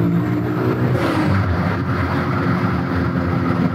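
A VW Golf accelerates hard in second gear while its wheels spin, with a loud, close, steady engine roar and tyre noise that keeps building without a break.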